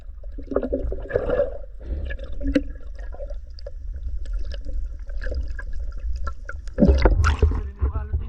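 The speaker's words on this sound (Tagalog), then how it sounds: "Ganun yung alon dito mga sir." Sea water sloshes and splashes against a small boat near Isla Banbanon. The choppy liquid sounds are irregular, with a louder splash near the end, and faint voices come through at moments.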